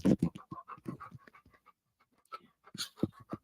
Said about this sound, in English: He's just a panting away.